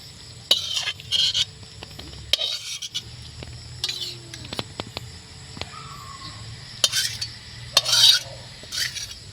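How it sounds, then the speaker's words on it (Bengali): Cabbage curry with fish head being stirred in a pan, with light scraping and clinking of a utensil in short bursts over a faint background sizzle; no talking. "আবারও একটু নেড়ে চেড়ে দিচ্ছি।"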